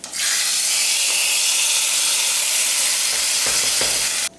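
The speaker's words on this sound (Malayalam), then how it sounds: "നമ്മുടെ വറവ് റെഡി ആയിട്ടുണ്ട്. ഞാൻ ഫ്ലെയിം ഓഫ് ചെയ്തിട്ടുണ്ട്. ഇനി ഇത് നമ്മൾ റെഡിയാക്കി വെച്ചിട്ടുള്ള മാമ്പഴ പുളിശ്ശേരിയിലോട്ട് വയ്ക്കാം." Hot tempering poured into mango pulissery curry, giving a loud, close, continuous sizzle that hisses steadily for about four seconds before cutting off abruptly.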